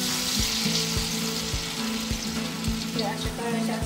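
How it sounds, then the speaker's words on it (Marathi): Coriander vadi fry in hot oil, giving a dense, steady sizzle close by with regular low thumps, and no talking. "आपल्या कोथिंबीर वड्या तळून रेडी आहे"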